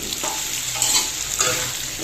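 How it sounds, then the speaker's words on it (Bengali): Fritters of elephant foot yam sizzle and crackle in hot oil in a wok, a steady bubbling hiss with a few louder pops and faint stirring, close up and continuous. "আর এদিকে এই কড়াই আবার বাকি বড়া বসিয়েছিলাম, এটা ভেজে নেব"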